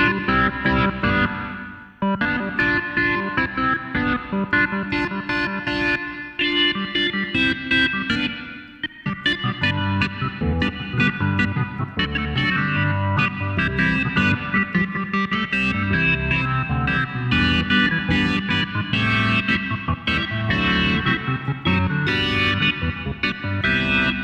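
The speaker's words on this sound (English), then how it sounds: "Get that like rock organ." Rock organ tone synthesized on a DeepMind 12, B3-style with crunchy drive from the rack amp, playing a dense, continuous chord passage with brief dips, loud and alone.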